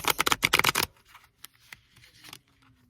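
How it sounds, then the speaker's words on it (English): Tarot cards being shuffled on a table: a quick burst of rapid riffling flutters, loud and close, then a few faint taps and soft card handling. "it's a little hard to shuffle like this on this table"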